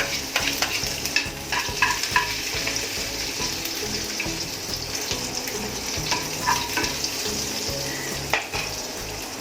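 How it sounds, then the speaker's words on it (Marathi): Cumin seeds and a mild green chili sizzle in hot oil for a fasting-day potato dish, giving a steady close crackle with the clatter of stirring on top and no talk. "जिरं टाकले आणि मिरची टाकली."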